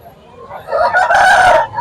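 A rooster crows close by at a country chicken market in Anantapur, a single loud cock-a-doodle-doo rising and holding for about a second over faint background noise.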